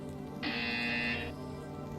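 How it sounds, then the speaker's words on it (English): A buzzer sounds in the VR game Portal Stories VR, a single steady electronic tone lasting under a second over a quiet, humming game background. "You will hear a buzzer"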